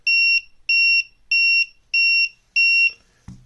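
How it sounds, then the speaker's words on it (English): A TickTime 2 digital timer beeps five times in a steady rhythm at the end of its countdown, each beep a loud, close two-tone electronic note, followed by a brief knock as it is handled. "we're going to get the beep, beep, beep noises"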